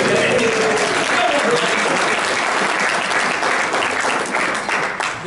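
Dense, steady audience applause fills a hall during a president's address, loud and continuous with a few faint voices beneath.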